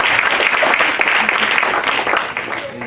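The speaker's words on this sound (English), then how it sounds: "Let's give a huge round of applause for all of our single parents today." A crowd claps steadily and loudly throughout, applauding single parents, a dense continuous wash of applause that eases slightly near the end.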